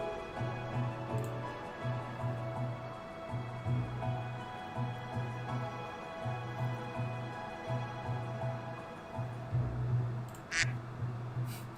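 Repeated short nasal quacks in an even, regular rhythm, about one every second, steady and moderately loud over a humming background, with a brief higher chirp near the end and no talking.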